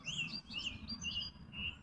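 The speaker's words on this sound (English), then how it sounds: "Birds communicating to each other" Birds chirping back and forth in trees, a series of quick high tweets and short calls close by over a low steady background rumble.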